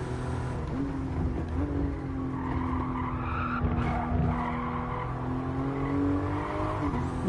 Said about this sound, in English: this thing makes a lot of tire noise